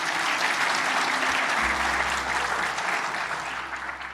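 Sustained applause from a lecture audience fills the room, a dense even wash of many hands clapping throughout, tapering slightly at the end with a low hum entering midway.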